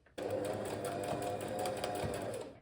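A sewing machine fitted with a side zipper foot runs steadily while hemming a beaded, embellished dress, a close, continuous whirring stitch that starts abruptly and carries on for a couple of seconds.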